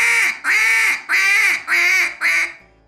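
Five loud, drawn-out nasal quacks from a duck call come in a steady pleading rhythm, each note sagging slightly, the last one trailing off softer.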